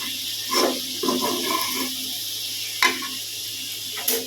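Oil sizzles hard in a hot pan while duck meat cooks, a steady crackling hiss broken by a few sharper spits and clinks, close and with no talking.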